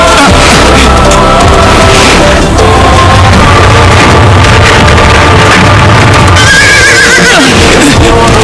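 White horses with golden manes whinny loudly over a busy clatter of hooves, with occasional deep booms mixed into the dense, continuous din.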